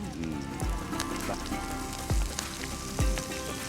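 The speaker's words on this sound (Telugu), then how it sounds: "ఇప్పుడు దాన్ని అందులో వేసి చెప్తా. ఇది వేయాలా? వేసి బాగా వేగింది కదా." Andhra-style tempering of drumstick leaves frying in oil in a pan; a steady close sizzle under faint background voices, with three dull thumps of something hitting the pan.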